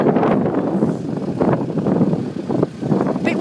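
Strong wind buffets the microphone at a level crossing in Lincoln, making loud, close, gusty rushing and rumbling that swells and dips over a few seconds, with no talking.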